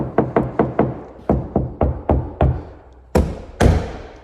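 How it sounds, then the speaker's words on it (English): Knuckles knock on a sealed, sprayed and glassed fibreglass multi-person deep soaking tub: a quick run of about eleven close, dull, solid raps in uneven clusters, ending with two sharper, louder hits. "it doesn't matter where you're knocking, it's a solid piece"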